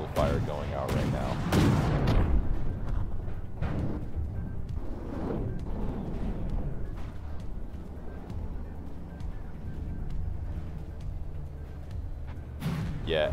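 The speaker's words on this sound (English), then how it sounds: "Whole lot of cannon and missile fire going out right now." Booming weapon fire in the naval game From the Depths: a burst of sharp cannon blasts early, then scattered thuds and rumbling missile explosions, with a few more loud shots at the end.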